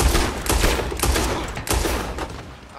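Bursts of gunfire from a Red Dead Redemption 2 shootout crack out in a loud, rapid, uneven volley of about five shots, each one sharp and close.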